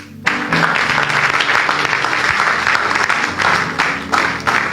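Audience applause and cheering rise abruptly at a church service and continue loud and dense for several seconds, with a crowd clapping throughout and brief swells.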